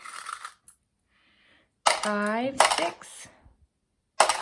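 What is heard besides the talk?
pennies dropping into a bucket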